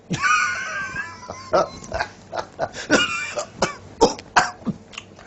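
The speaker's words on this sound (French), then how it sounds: "Une petite toux, le matin seulement." A string of rough, hacking smoker's coughs and throat clearing, close and loud, repeating in bursts over a few seconds.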